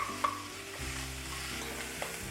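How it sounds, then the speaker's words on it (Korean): Sliced onions stir-fry in butter in a pan over medium heat, a steady sizzle with a spatula scraping and stirring, heard close up with no talking. "채 썰은 양파 볶아주면 됩니다."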